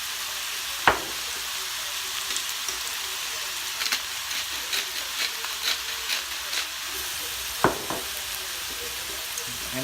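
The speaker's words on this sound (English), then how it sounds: "And then we're going to stir this together." Sweet potatoes and carrots with nutmeg, salt and pepper sizzle steadily in a pan while a spoon stirs them, with two sharp scrapes or knocks against the pan and soft repeated stirring sounds over the hiss.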